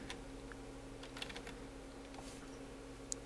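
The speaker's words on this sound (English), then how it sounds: "You want to type in the IP address for" Light keystrokes on a computer keyboard while entering a server IP address into a web browser, a few faint scattered clicks over a steady low electrical hum with no talking.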